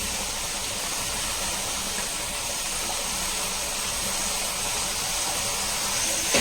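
A constant, even hiss of curry leaves sautéing in hot oil for a pickle, steady and broadband with no breaks, close by and moderately loud.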